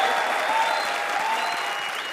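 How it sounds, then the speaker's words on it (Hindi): An audience applauding a performer on a comedy stage, with steady, dense clapping from a crowd throughout. "तालियां बजाओ उनके लिए"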